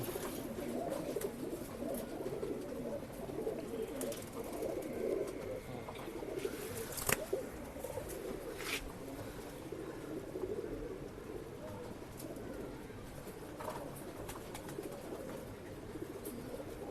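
Flying pigeons held for sale in Bangalore coo softly and continuously in a busy loft, with wing flutters and scattered clicks and voices talking in the background.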